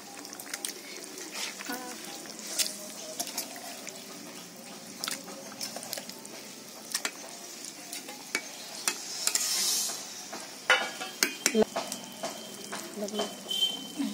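Chicken pieces frying and being stirred in spice masala for a home-style chicken biryani: a steady soft sizzle runs throughout, with scattered spatula scrapes and wet squishes growing busier toward the end.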